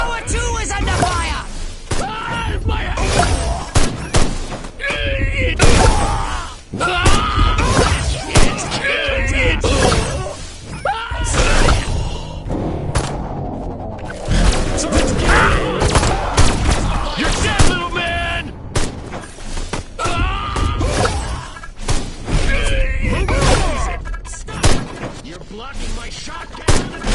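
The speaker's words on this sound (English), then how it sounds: "Tower 2 is under fire!" Loud, dense gunfire and heavy impacts pound continuously as a tower comes under attack in a PS4 video game, blasts and slams layered with shouted voice lines.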